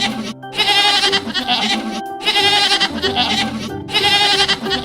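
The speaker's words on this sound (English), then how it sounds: "Our first farm animal is going to be a goat." A goat bleats in repeated loud, wavering calls, three long bursts separated by short gaps, over a faint bed of tonal background sound.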